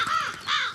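Crows give two quick, harsh caws close by in a brief burst.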